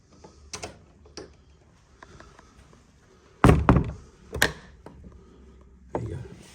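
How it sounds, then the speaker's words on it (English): A heavy old wooden church door is pushed shut with a few scattered knocks and thuds, then two loud close slams of wood on its frame, followed by a softer bump. "Close the door behind me."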